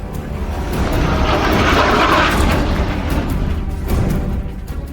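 A Tejas Mk 1A fighter jet roars loudly and steadily overhead, swelling to a peak midway and then easing slightly as it passes, with no voices.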